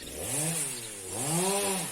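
A saw cuts fig tree branches in a garden, its motor pitch swelling and dropping twice in quick succession at moderate volume.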